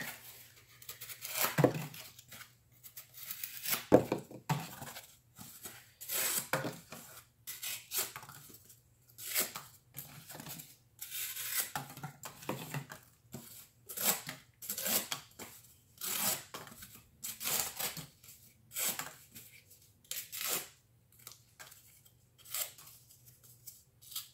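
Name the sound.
Kizer Lieb knife cutting small cardboard scraps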